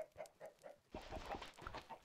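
Clucking chickens from the Minecraft video game cluck in short repeated bursts, first spaced and rhythmic, then a busier cluster of overlapping clucks over a soft background bed.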